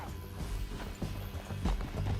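A horse galloping in Red Dead Redemption 2, with repeated hoofbeats thudding across a canyon ride amid game noise and background sounds, steady and mid-level throughout.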